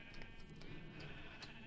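Sheep in a Minecraft wool farm bleat softly in game audio, a few short overlapping bleats spread across a steady low hum, with no speech.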